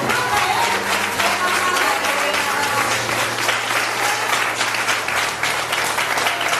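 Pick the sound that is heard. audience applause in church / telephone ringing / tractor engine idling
audience applause in church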